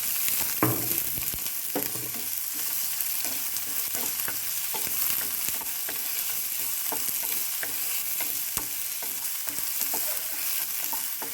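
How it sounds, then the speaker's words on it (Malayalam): Big onions fry in oil with spluttered mustard seeds while being stirred in a pan: a steady sizzle runs throughout, broken by repeated scrapes and light clatter, close up and with no talk. "ഈ ഉള്ളി കുറച്ചൊന്ന് വാഴട്ടെ കേട്ടോ."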